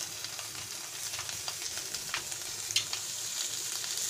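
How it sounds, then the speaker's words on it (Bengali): Chicken pieces hiss and crackle in a hot kadai for a Bengali milk chicken dish, a continuous bright sizzle with small pops and spatters, close and steady, with no talking. "কড়াইতে আমি প্রথমে চিকেনগুলো দিয়ে দিচ্ছি"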